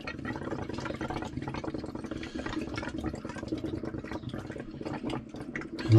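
Water fills Puriclean household pipes with a faint, continuous rushing and gurgling that stays steady throughout and rises briefly at the very end.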